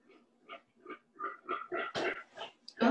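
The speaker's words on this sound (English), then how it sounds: "You might hear my pig." A pet pig grunts close by in a rapid series of about a dozen short oinks that grow louder toward the end, with no talking.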